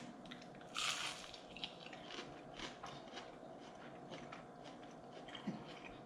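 Close-up crunchy chewing of onion rings, with a loud first bite followed by repeated softer crunches and squishy mouth sounds.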